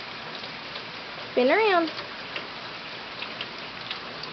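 Steady rain patters and ticks on surfaces throughout, close and even, while a voice speaks briefly over it.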